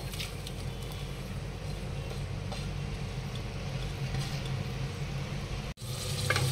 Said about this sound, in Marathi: आता तुपातच आपल्याला फोडणी द्यायची आहे. आता आपण कांदे टाकून घेऊया.